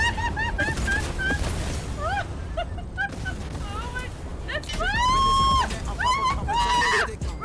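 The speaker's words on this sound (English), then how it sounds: "I keep hearing quacking." Quacking duck calls in the video game Disco Elysium come as a string of short repeated honks, then a longer, louder call set against constant background noise.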